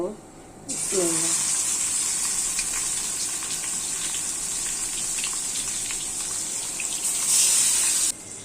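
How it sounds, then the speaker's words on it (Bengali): Fish frying in a pan gives a steady, bright hiss that lasts almost the whole stretch, with a brief voice at the very start and a slight swell near the end. "আমার মাছ ভাজাটা হয়ে গেছে"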